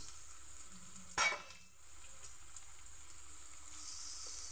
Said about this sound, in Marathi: कांदा टाकते. कांदा जरा जास्त टाकायचा.